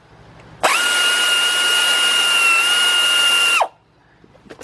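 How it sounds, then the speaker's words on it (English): A 3/8-inch drive air ratchet with a 14 mm socket spins a bottom caliper bolt out of a Nissan's rear brake. It gives one steady, loud, high whine of about three seconds, close by, starting and stopping abruptly. "got my 3/8 drive air ratchet. What you do is just take out the bottom bolt"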